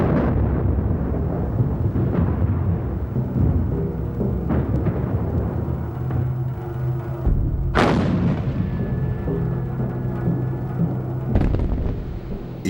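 World War I artillery bombardment: heavy guns boom again and again, irregular deep blasts and rolling rumbles from near and far, with one sharp loud detonation partway through.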